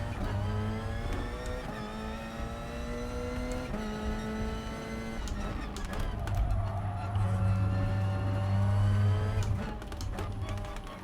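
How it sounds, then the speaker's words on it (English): A Porsche 919 race car in a Gran Turismo Sport career-mode endurance race: a loud, steady, high engine whine that climbs in pitch and drops sharply at several gear shifts, running continuously throughout. "I'm driving the Porsche 919."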